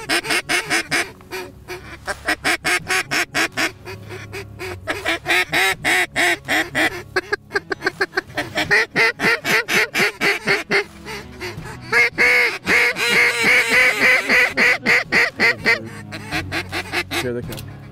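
Duck and goose calls blown by hunters on a river, loud, rapid, continuous honking and quacking in choppy bursts that run throughout, getting denser and more sustained in the second half.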